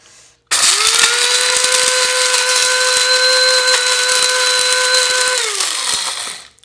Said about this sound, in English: we're just going to blitz these in a coffee grinder